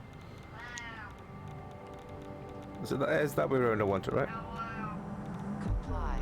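A house cat meows several times close by, one short meow followed by a louder drawn-out pair, while someone talks over a quiet background hum.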